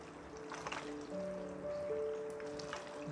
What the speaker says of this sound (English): Want to give it a good stir to make sure everything is nice and blended.